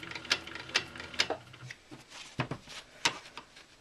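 A sewing machine stitches in the ditch on a quilt block, giving a quiet, uneven run of mechanical clicks and short whirring bursts with brief pauses between them, heard close and with no talking.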